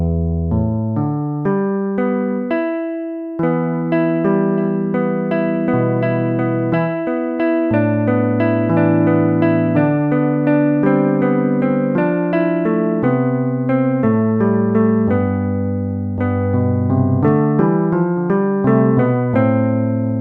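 A sampled, guitar-like plucked instrument plays a melodic line of single notes and chords, each decaying quickly, clear and upfront with no voices.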